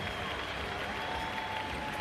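A crowd at a timbersports world championship applauds steadily with a dense, even wash of clapping heard at a distance.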